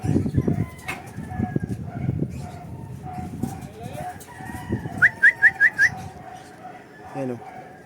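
Birds call near a Philippine home in a fairly quiet setting with soft voices in the background. A short burst of five quick, bright, rising whistled notes stands out, followed by a lower cooing note.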